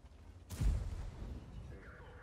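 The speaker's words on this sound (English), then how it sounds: "our Panther is firing HE" A single heavy cannon shot from a Panther tank firing high-explosive rounds in World of Tanks booms once, fairly loud against a quiet rumbling background, with a lingering low tail.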